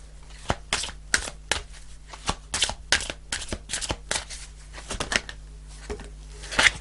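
Angel answer tarot cards are shuffled in a steady run of crisp, papery riffles and flicks, close and clear, with a faint low hum beneath and no talking.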